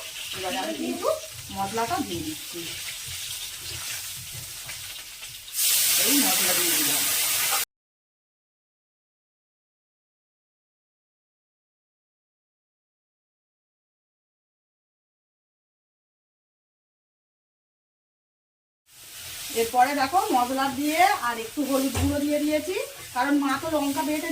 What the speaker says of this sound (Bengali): আর কড়াতে পাঁচ ফোড়ন দিয়ে আর একটু তেল দিয়ে আর আমি আলুটা দিয়ে দিয়েছি